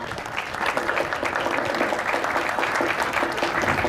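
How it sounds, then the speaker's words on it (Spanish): Warm, sustained audience applause at a book fair in Trujillo, welcoming a speaker to discuss a poetry collection; dense steady clapping from a sizeable crowd, fairly close and even throughout. "Lo recibimos con fuerte y caluroso aplauso."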